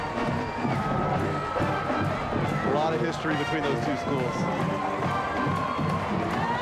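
At a Flambeau night parade, a crowd cheers and shouts steadily for the Edison and Jefferson high school marching bands, with someone talking over the dense, continuous roar.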